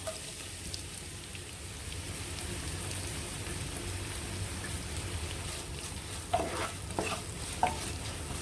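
Chopped small onions sautéing in hot oil with fennel seeds in a pan for Kerala coconut rice, a steady soft sizzle with a few louder crackles and pops near the end.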